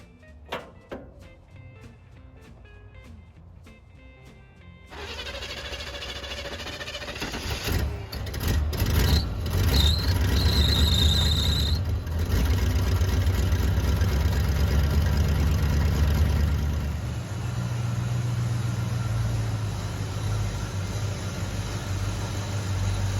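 A few clicks, then a 1958 Chevy Apache truck's V8 engine cranks and catches, revs loudly, and settles into a steady, rumbling idle nearby.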